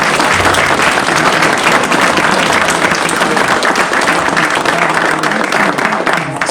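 A live audience breaks into loud, sustained applause after a presenter, dense steady clapping filling the room without letup from start to finish.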